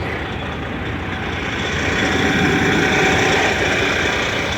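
An old truck's engine runs steadily, a loud, close rumble with a constant drone that swells slightly in the second half, no talk over it.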